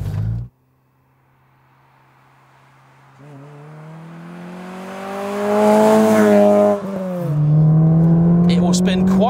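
A Ford Racing Puma's engine climbs steadily through the revs toward 7,000 rpm, loud and close from inside the car, briefly dipping on a gear change before pulling hard again.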